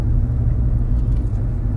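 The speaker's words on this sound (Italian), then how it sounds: "Notate il cambio di marcia e la scalata" Car with a robotized gearbox shifting up and downshifting, a loud, close low engine rumble with slight surges in level over a short stretch.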